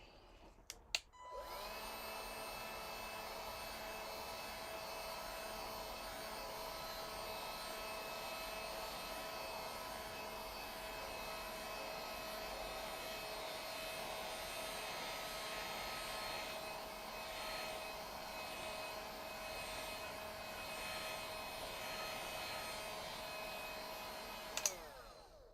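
A heat gun runs continuously for about 24 seconds, drying paint on a Glowforge-cut sign. It gives a steady, fairly loud blowing whir, with a short click at the start and again at the end.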